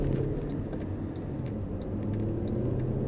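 A Mercedes-Benz SLS AMG accelerates on a Las Vegas race track, its engine giving a steady, full rumble that holds throughout without any talk.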